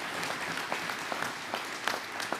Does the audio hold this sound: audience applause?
yes